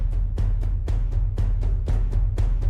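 Rhythmic, march-like step hits in a live sound design setup: sharp percussive impacts recur about every quarter second over a steady low kick-drum rumble, loud and close, with no voices.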